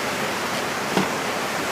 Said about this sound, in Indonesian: Oke, kita kasih siram dia. Ini alamak, banjir tempat saya.